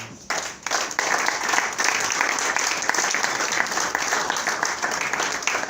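A church congregation bursts into sustained applause, dense and even from many hands, holding steady for several seconds in a reverberant hall.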